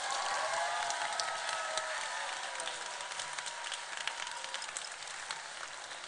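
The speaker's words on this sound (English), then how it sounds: "Give them a great big round of applause." Sustained applause from a crowd, a steady dense patter of clapping that holds for several seconds with no talking.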